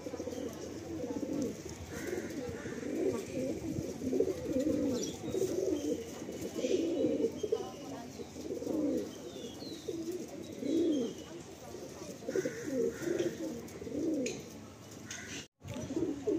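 Several pigeons coo in repeated soft, throaty bursts close by, with faint chirps and rustling in a loft; the calls rise and fall steadily across the whole stretch.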